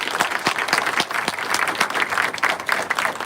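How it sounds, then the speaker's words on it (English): Lively applause from an open-forum audience, with distinct sharp claps standing out from the crowd, loud and close, continuing steadily. "let's please give Mr. McClellan another round of applause."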